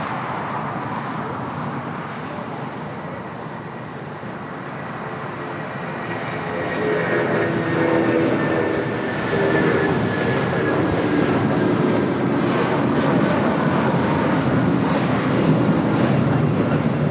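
A Boeing 737-200 jet takes off from the south side runways at Los Angeles International Airport, a broad steady engine roar that swells midway and holds loud and rumbling through the end.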